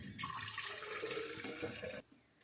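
Water runs from a tap into a bottle being refilled, a steady close rushing stream that cuts off sharply near the end, leaving quiet room tone.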